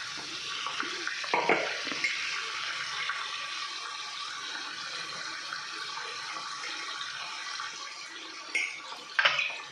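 Raw prawns with turmeric and salt fry in oil with a soft, steady hiss, broken by a few faint clinks and scrapes near the start and end.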